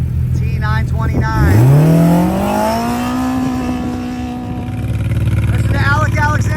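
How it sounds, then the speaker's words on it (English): An off-road Polaris RZR race car engine holds on a two-step rev limiter at a desert race, a loud close crackling buzz that climbs and then sits at a steady pitch, with a commentator talking over it throughout. "Listen to Alec Alexander get on the two-step. Some people like to launch on the two-step like drag racing. He's on the rev limiter."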